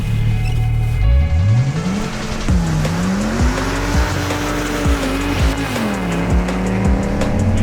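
A 1994 Audi S4 quattro with large 18-inch wheels accelerates hard on a wet road, its engine note climbing loudly through repeated gear changes, the revs rising, dropping sharply and rising again, with tyre hiss and squeal throughout.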